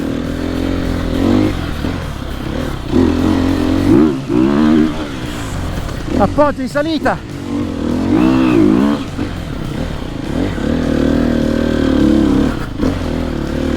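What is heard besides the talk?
Sherco 300 four-stroke enduro motorcycle engine riding uphill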